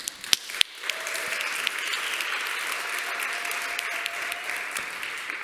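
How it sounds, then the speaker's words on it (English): Applause rises from the audience at the Latvian Startup Awards 2024 in honour of Startup House, a dense, steady clapping that holds throughout after a few sharp early claps. "And a round of applause to Startup House."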